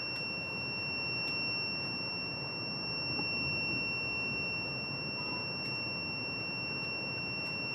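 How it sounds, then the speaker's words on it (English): A DTF printer beeping while ink is loaded, a high steady electronic tone running continuously through the whole stretch over a constant mechanical hum, with a few faint clicks and no speech. "When the light is off, the beep sound is off"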